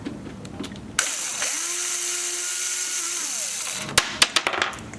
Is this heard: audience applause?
no